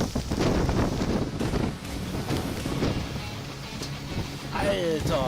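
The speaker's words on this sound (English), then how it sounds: "The powerful gusts of a windstorm leave a lasting impression, showcasing the raw force of nature." Powerful windstorm gusts roar and buffet the microphone in loud, rushing bursts, with broadband blustering noise rising and falling throughout and a brief tonal whine near the end.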